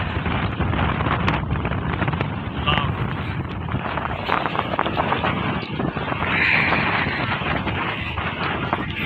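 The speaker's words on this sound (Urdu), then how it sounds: "آپ دیکھ سکتے ہیں کہ ہوا کس زور سے چل رہی ہے، اس کے ساتھ مٹی بھی اڑتی جا رہی ہے۔" Strong wind gusts through Medina, lifting dust, with a loud, constant buffeting rush across the microphone that barely lets up, and a voice talks underneath it.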